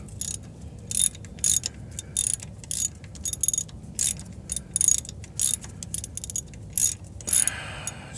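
Ratchet turning a timing cover bolt on a Geo during timing belt work, a steady run of rhythmic clicking strokes about once a second, close and moderately loud, with no speech.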